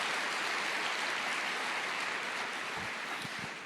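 Church congregation applauding during a worship service, a sustained, even wash of many hands clapping at a constant level, filling the whole stretch.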